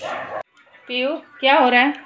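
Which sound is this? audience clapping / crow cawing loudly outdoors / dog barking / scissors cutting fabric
dog barking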